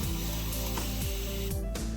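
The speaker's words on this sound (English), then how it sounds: "Now invest in a spray bottle." A continuous-mist spray bottle from Ella Natural sprays water onto natural hair, a dense close hiss that pulses roughly every half second as the trigger is worked, with no voices.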